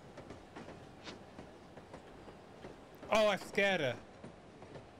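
Train carriage rolling on rails inside a video game, a steady low rumble with faint rhythmic clicking of wheels over track joints, heard beneath a short spoken exclamation and a loud tonal game sound near the end.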